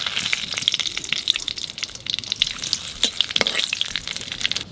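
Black cumin seeds and bay leaves crackle and spit in oil left over from frying silver fish, a close, lively sizzle with sharp pops throughout and no talking.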